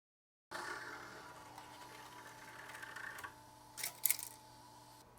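A 22 IDEX 3D printer unloads filament with a steady, faint mechanical whir and hum, ending in a few brief clustered clicks and rattles.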